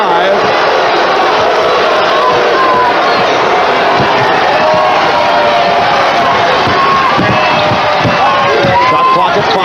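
A packed arena crowd at an NBA Finals game, Bulls at Trail Blazers, roars and shouts in a dense, continuous wall of noise, loud and sustained, with a commentator's voice faintly underneath.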